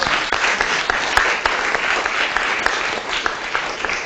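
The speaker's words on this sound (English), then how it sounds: "So give her a big round of applause." Audience applause welcoming a staff member at a KITP physics gathering, a dense steady clatter of many hands clapping for the full stretch, moderately loud and close with sharper individual claps standing out.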